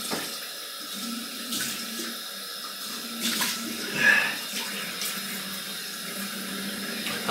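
Cold tap water running into a bathroom sink during a wet shave: a steady, close hiss and splash of flowing water that continues unbroken throughout, with small clinks and bumps over it and no voices.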